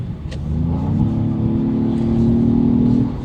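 A Genesis GV80 Coupe engine, 409 hp, revs hard in Sport Plus mode and climbs in pitch, briefly dips as it shifts gear, then pulls strongly upward again before cutting off.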